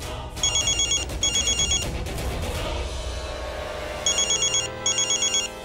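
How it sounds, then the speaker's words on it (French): A mobile phone ringtone chimes in two bursts of quick repeating electronic tones, each lasting over a second, with a second pair of bursts after a pause, loud over a steady background of music and room noise. "ton téléphone, il sonne?"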